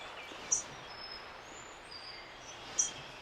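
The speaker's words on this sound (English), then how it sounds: "I just heard the call note of the prothonotary warbler, a very sharp call, somewhere back in here in that wetter slough area." Prothonotary warbler giving sharp call notes in a wet slough among silver maples and black ashes, two short, high, faint chips well apart over a quiet wetland background.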